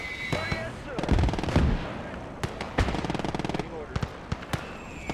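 Machine guns rattle in a WWII video game battle, with long, rapid bursts mixed with sharp single gunshots and heavy booms. The fire is loud and close, and there is some faint background chatter.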